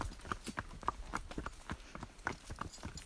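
Hooves of horses walking on a beach clip-clop in a steady, uneven rhythm, fairly close but soft, with no one talking.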